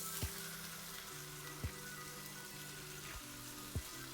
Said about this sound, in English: There is something about the sound of a pan sizzling that I love.